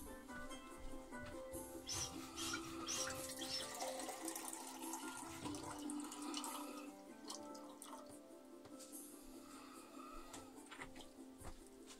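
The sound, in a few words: water running from a tap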